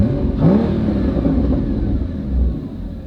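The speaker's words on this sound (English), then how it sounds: "The exhaust sounds great" Porsche GT4 engine and exhaust rumbling loud and close, a short rising rev swell near the start, then a steady low drone with a slight surge toward the end.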